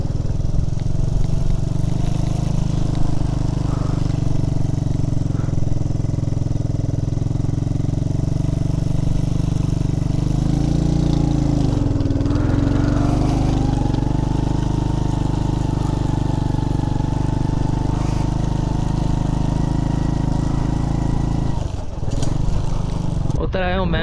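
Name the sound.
CD 70 motorcycle engine running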